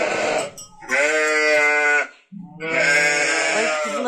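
A sheep in a lambing barn gives two long, loud, wavering bleats close by, separated by a short pause.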